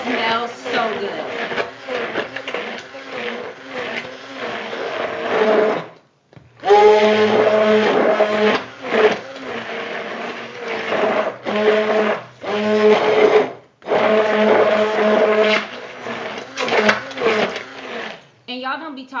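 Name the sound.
blender blending sweet potato pie filling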